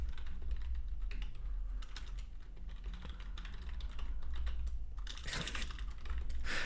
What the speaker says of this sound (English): I said that I'm a slow typer, but I swear to God, typing on stream is like 10 times more difficult